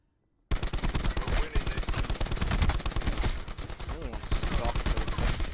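Rapid automatic gunfire rattles almost nonstop from a weapon with a hybrid magazine in a fast-paced shooter game, loud and close, with bursts overlapping into a dense fusillade after a brief silent start.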